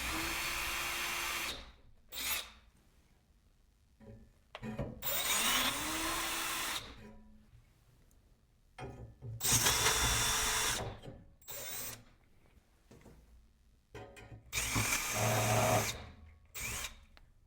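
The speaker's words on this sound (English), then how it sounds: "I'm going to use that same 1/8 inch drill bit and drill in each hole" A power drill with a 1/8 inch bit drills marking holes through a bracket for a Ryobi 48V battery, whirring in five short close bursts separated by quiet pauses.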